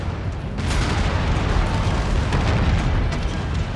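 An enemy mech blows up in MechWarrior 5: Mercenaries, a sudden loud explosion followed by a sustained heavy rumbling roar that fills the whole stretch without letting up.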